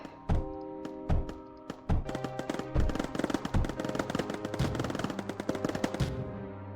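Turrets in the Mindustry video game firing in rapid, irregular bursts, sharp gunshot-like cracks repeating close together with no talking.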